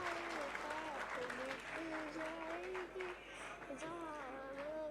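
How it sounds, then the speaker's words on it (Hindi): An audience at a Galgotias University event applauds to welcome motivational speaker and bhajan singer Jaya Kishori to the stage. The clapping is faint and distant, with a voice over it. "एक बार जोरदार तालियों"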